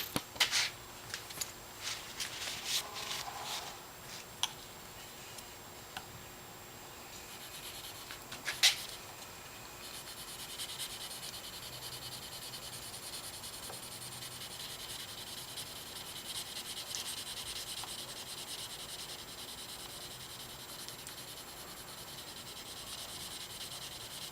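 A knife blade is stroked across a 1500 grit sharpening stone, repeated soft rasping rubs that start in quick bursts and then settle into a long, steady, faint scraping, close up and without speech.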